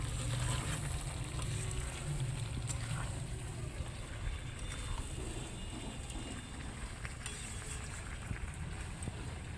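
Mutton pieces being sautéed (kosha) in a pan give off a steady, dense sizzle and fry hiss that runs unbroken and fairly loud throughout, with faint stirring clatter now and then and no voices.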